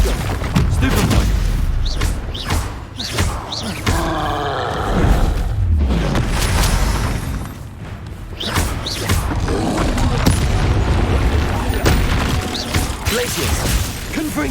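Spell blasts cast in the Hogwarts Legacy video game, repeated booming impacts and whooshing bursts layered with mechanical clatter in a busy, loud combat sequence, while a voice keeps calling out spell names.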